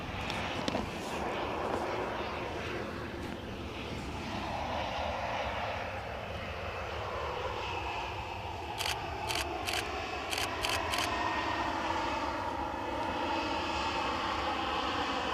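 A KLM airliner at Edinburgh Airport gives a steady broad engine roar with a slowly shifting whine, heard from a spotting position, with a few quick camera shutter clicks near the end.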